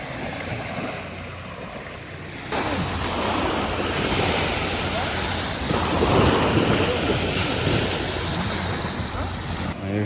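Sea waves wash onto the shore of Malapascua Island after an earthquake, a continuous rushing surf that swells louder midway, with wind buffeting the microphone throughout.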